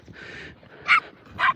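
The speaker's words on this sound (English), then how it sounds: "So Juno's the dog that's barking. She's a border terrier" A border terrier barks twice in quick succession, sharp and fairly close, after a stretch of softer background noise during a dog walk with several dogs.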